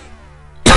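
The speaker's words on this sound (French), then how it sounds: "je vais tousser pendant toute la vidéo" After a quiet moment, a single sharp, loud cough bursts out close to the microphone near the end, with faint game audio underneath.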